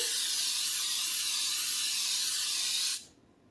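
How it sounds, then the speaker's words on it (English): A continuous close spray of baking spray into cake pans over a sink hisses steadily for about three seconds, then stops abruptly, leaving quiet room noise. "I like to spray it over the sink"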